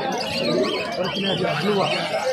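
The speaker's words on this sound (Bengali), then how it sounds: "সমস্ত রকমের পায়রা পাওয়া যায় সোমনাথদার" Pigeons coo and chirp at a pigeon market in Uluberia, soft and close, half buried under people talking nearby.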